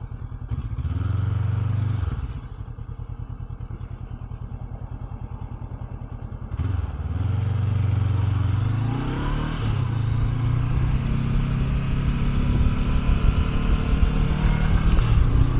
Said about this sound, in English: There's a lovely little pop pop on the overrun on the exhaust.